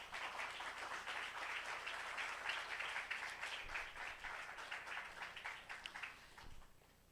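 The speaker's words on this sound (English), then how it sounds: "Let us give a round of applause." An audience applauds at a public forum and solidarity ceremony, a dense, sustained clapping of many hands heard from some distance, fading gradually toward the end over about seven seconds.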